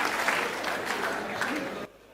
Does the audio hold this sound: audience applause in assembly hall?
yes